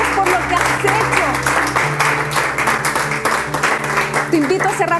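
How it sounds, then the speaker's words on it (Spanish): A church congregation claps steadily during a sermon, a dense sustained applause with voices and a background hum mixed in. "Yo le daría un aplauso al Señor y le diría, gracias, Señor."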